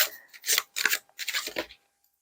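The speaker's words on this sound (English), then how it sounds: "I feel uncomfortable shuffling this deck." A tarot card deck being shuffled by hand in short, crisp riffling bursts, close and fairly quiet, with brief pauses between them and no talk.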